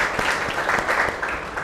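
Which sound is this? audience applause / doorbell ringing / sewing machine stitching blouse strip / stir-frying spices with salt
audience applause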